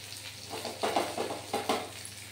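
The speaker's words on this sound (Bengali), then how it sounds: "চিংড়ি মাছগুলো ভাজা হয়ে গেছে, এবার এর মধ্যে দিয়ে দিলাম জিরে ফোড়ন, দিলাম পেঁয়াজের কুচি" Cumin seeds and chopped onion hit hot oil in a pan already holding fried prawns for a spinach dish, giving a soft, steady sizzle broken by a few louder stirring scrapes, with no one talking.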